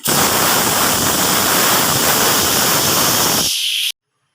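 A pressure cooker whistle, cooking mixed dal khichdi on a gas stove, blasts a loud, steady rush of hissing steam for a few seconds, then cuts off abruptly into silence.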